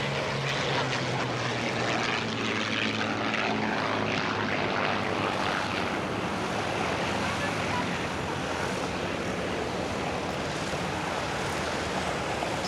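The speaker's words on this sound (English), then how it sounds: "There goes one now. But of course, today's Mustangs are flown very conservatively and very carefully." P-51 Mustang fighters fly past at the Duxford Flying Legends Airshow with a steady, loud propeller drone that holds throughout, and a faint commentary voice is beneath.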